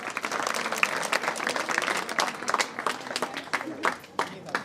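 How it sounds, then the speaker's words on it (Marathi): Audience applause at a Purandar Kalamanch prize distribution, a dense sustained clapping from a crowd that carries steadily for several seconds before thinning slightly toward the end. "टाळ्या वाजल्या पाहिजेत चांगल्या"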